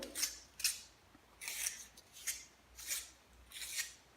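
A pencil is sharpened in a series of short, faint scraping grinds, about seven bursts in quick succession, heard alone.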